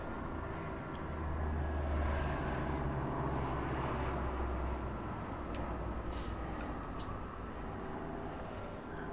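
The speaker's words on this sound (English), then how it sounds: "And there goes the transport plane over again." A transport plane passes overhead in a farming simulation game, a steady droning engine rumble that swells slightly and then holds, mixed with a constant vehicle hum in the background.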